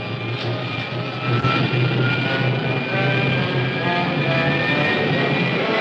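A pilot jet firing on a rocket pack rig, heard as a steady, loud, continuous roaring rush of engine noise that holds without a break throughout.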